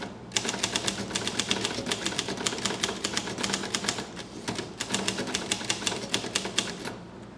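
A Groma Kolibri ultra-portable typewriter being typed on, a fast, steady run of crisp close key strikes with brief pauses between bursts.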